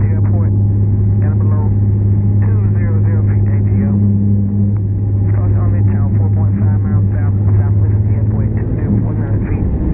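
A steady, loud engine drone with a low rotor-like hum runs throughout, as from inside a helicopter, while people talk over it.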